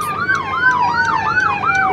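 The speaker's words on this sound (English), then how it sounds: "y'all hear the ambulance?" An ambulance siren passing through city traffic, a loud rising-and-falling wail repeating about every half second, close and continuous under light traffic noise.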